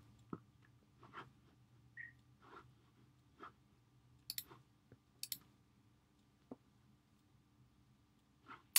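Two sharp, faint mouse clicks start a render in V-Ray on a computer, with a few softer taps and near silence around them in a quiet room.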